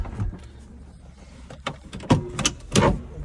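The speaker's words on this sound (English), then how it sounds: "To open and close the door, just pull that and open." Access door on a Radical RXC race car being pulled open: a few soft handling rustles, then two sharp mechanical clunks of the latch and panel, close by and without speech.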